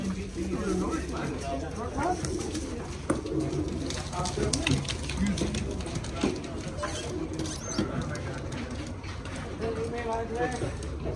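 Racing pigeons coo softly in the background at a busy pigeon auction, their calls half buried under steady crowd chatter and room noise.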